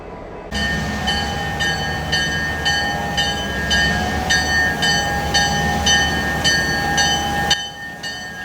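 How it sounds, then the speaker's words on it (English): Two diesel locomotives, an SD40-2 and a GP38-2, idle at the head of a long passenger train, giving a steady, loud rumble with a sustained tonal whine and regular ticking pulses, cutting off near the end. "This long passenger train is being powered by two diesels, SD40-2 number 1776 and GP38-2 number 2026."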